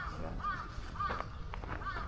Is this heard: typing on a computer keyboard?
no